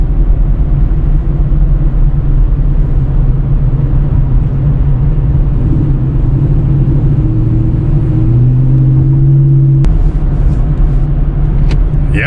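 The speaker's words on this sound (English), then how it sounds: "I'll kind of roll into a full throttle on the on-ramp here if I can." Pontiac G8 GT with an old exhaust setup rolling into full throttle on a highway on-ramp, a steady loud engine rumble with a rising tone as it accelerates, plus a brief thump near the end.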